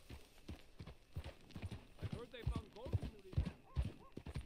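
Horse hooves clip-clop in a steady rhythm with a brief whinny in Red Dead Redemption 2 on PS5, fairly faint, as characters talk over the riding.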